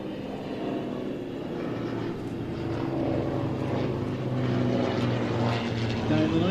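A Hawker Hind biplane flying past, its propeller engine a steady low drone that slowly swells louder, while someone talks over it.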